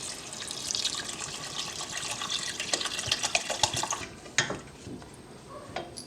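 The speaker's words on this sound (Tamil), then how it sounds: "இப்போ வந்து குழம்புக்கு தேவையான தண்ணி வந்து இதில் நம்ம சேர்த்துக்குவோம்." Water from a tap pours into a pot of fish curry in a kitchen, a steady running splash that fills the first four seconds, then a few scattered drips and clinks close by.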